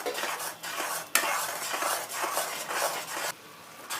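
A utensil stirs tawa fry masala and vegetables in a pan, scraping and swishing in repeated strokes with a faint sizzle beneath, close and fairly loud, then it quiets near the end.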